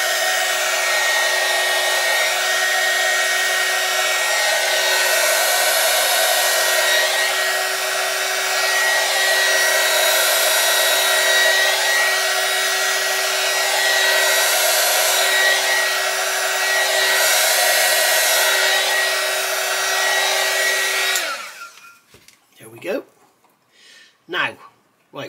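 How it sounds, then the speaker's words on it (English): A heat gun shrinks heat-shrink tubing over LED wiring being fitted to a UK Mustang GT, blowing as a steady loud whoosh for about twenty seconds before cutting off into brief handling noises. "And then once again, heat shrink that."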